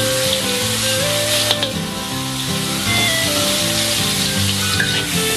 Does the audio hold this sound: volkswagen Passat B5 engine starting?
no